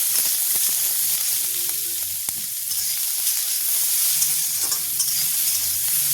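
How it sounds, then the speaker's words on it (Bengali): Vegetables and peas stir-frying uncovered in a pan for fried rice, a constant close sizzle broken by sharp scraping stirs and clinks of a utensil, no speech. "এখানে সবজি ঢাকা দিয়ে ভাজবো না, খুলেই ভাজবো"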